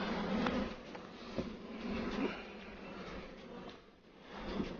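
Honeybees buzz steadily during an open beehive inspection, a dense close droning hum that swells and dips, with faint handling knocks from the frames and no speech.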